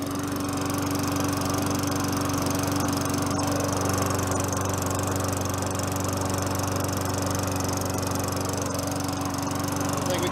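Tecumseh 4.5 HP lawn mower engine idling steadily, a loud continuous rattling drone with a constant pulse, close by with no pauses.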